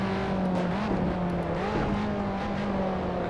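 Race car engine droning steadily in Assetto Corsa, a sustained loud tone shifting pitch slightly as the car works around a track, with no voices.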